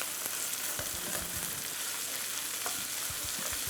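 Half a kilo of minced meat frying in a pan, a constant sizzle with scattered knocks and scrapes of stirring, close by and without talk.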